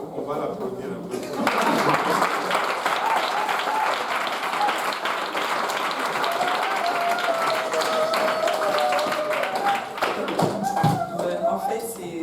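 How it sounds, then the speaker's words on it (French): A church congregation applauds during a special Mother's Day service, the clapping starting abruptly and staying steady and dense for about ten seconds before thinning, with voices and cheers mixed in. "on va l'applaudir un peu."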